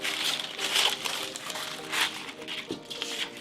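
Crepe paper being cut with scissors to shape hibiscus petals for a kids' crown craft, a run of soft crinkling snips and rustles up close, steady over a few seconds with no talking.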